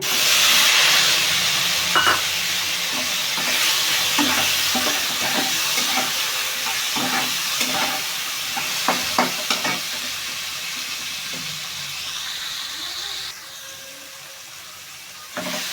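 Chopped tomatoes fry in hot oil with cumin for a vegetarian biryani made without onion or garlic, giving a loud, steady sizzle with scattered stirring clicks that eases slightly toward the end.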